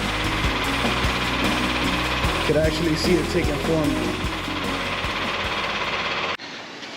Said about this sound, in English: Now they're hammering down the second one.